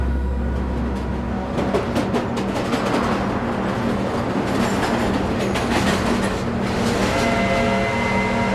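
A train rounds a bend on railway tracks through quiet, windy, untouched countryside, its steady rumble and clickety-clack of wheels running loud and continuous throughout, with brief metallic squeals rising near the middle.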